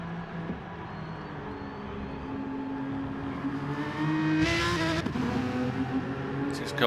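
Race cars in a racing video game run a lap, engines droning steadily at close range, then a brief louder surge of revving and a sharp burst near the end of the pass.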